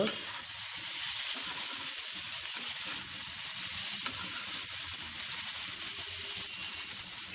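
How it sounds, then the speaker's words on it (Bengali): Food fries in a pan with a continuous loud hiss and sizzle, broken by occasional stirring scrapes, up close with almost no talk. "আর একটু ভেজে নেব"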